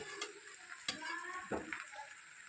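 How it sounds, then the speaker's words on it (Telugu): Chopped omelette pieces for egg pickle go into a hot oil tempering with onion, giving a close sizzle with a few sharp stirring knocks against the pan. "ఇప్పుడు మనము ముక్కలు చేసుకున్నటువంటి ఆమ్లెట్ మిశ్రమాన్ని తాలింపులో వేసుకోవాలి"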